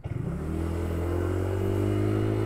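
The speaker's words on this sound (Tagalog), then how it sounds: "Ito mga motor." Motorcycles, including a Honda Winner X scooter-bike, running along a road near Carmona Racetrack, a steady close engine drone with rising revs, sustained and loud throughout.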